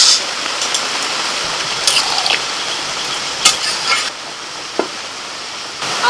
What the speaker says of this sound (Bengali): ভাজা পটল আর চিংড়ি দিয়ে দিল।